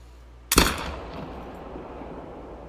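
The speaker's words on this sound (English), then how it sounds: "I just brain shot the 9 legendary" A single sharp rifle shot rings out loud and close in The Hunter: Call of the Wild, dropping a legendary kangaroo with a headshot, then trails off into a long fading echo over quiet outdoor ambience.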